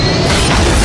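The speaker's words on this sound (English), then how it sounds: "Big explosion," A big explosion roars loud and close, a dense broadband blast that fills the whole brief moment without a break.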